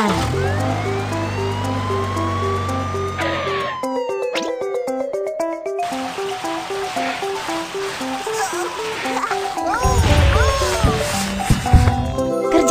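A looping two-tone siren from a cartoon fire engine plays over music in the first half, then fades as a rushing spray of water takes over near the end.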